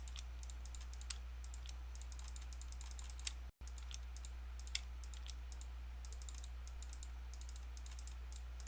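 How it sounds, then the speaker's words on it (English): Steady runs of fast, light computer mouse clicks while trading tokens in Minecraft, close and quiet, repeating in irregular bursts over a constant low electrical hum with no voices. "Now just a bunch of clicking to trade off all these tokens."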